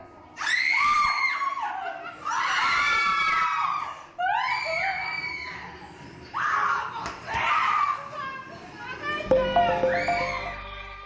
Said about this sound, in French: à en entendre les cris qui y résonnaient